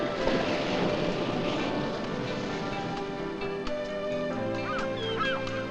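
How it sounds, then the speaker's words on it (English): Gulls and other seabirds call at their rocky nesting cliffs on a treeless island in spring, with a few distinct cries rising out of a dense, constant wash of crowded colony noise. "On the rocky cliffs, seagulls and other birds make their nests and lay their eggs."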